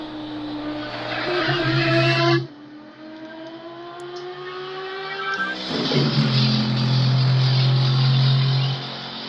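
GT3 and GT4 race cars at Monza, including a Mercedes, roar loudly with shifting engine pitch, a sharp drop in level around the middle of the clip, then a loud surge that builds again; no talk.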